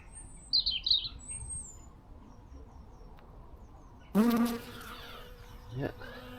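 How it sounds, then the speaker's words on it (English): A honeybee carrying pollen buzzes close by outdoors, with a brief high whine early on and a louder burst of buzzing later, over faint background noise. "See the honeybee? Collecting pollen."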